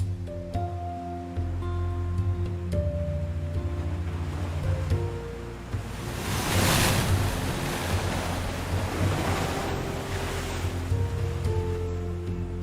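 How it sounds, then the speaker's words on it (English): Ocean waves crash hard against rocks on a Gran Canaria coast, a broad roaring surge that swells loudest midway, with steady tonal music running underneath throughout. "the waves crush with enormous force against the rocks"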